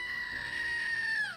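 A goat scream sound effect: one sustained, high bleating wail holding steady for over a second, then bending downward as it cuts off, loud and alone.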